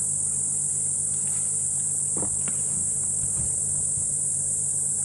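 Cicadas drone in a dense, steady high-pitched buzz on an African safari sunrise drive, never letting up, with a few faint low bumps and rustles underneath.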